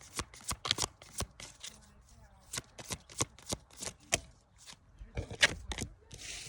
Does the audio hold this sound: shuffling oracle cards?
yes